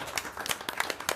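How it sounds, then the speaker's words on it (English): A few people clap briefly and unevenly, a sparse scatter of close, sharp hand claps lasting about a second. "The round of applause where you move your hands in a circle."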